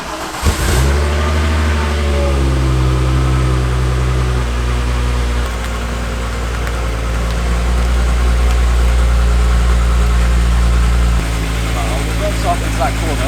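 A car's engine runs steadily at idle inside a shed while it is maneuvered into place, a low continuous rumble with a brief rev near the start, as people talk over it.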